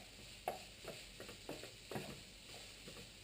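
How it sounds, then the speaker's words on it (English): Beef mince browns in a pan for a bolognese, giving a faint, steady sizzle with soft scraping and stirring clicks from a utensil, and no voices. "So what you're looking for with the beef is to just brown it off."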